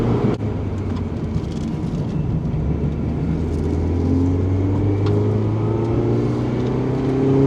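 Rebuilt crash-damaged Mazda Miata pulling hard under acceleration, a steady loud engine drone with rising tones and road noise heard from inside the car, no talking.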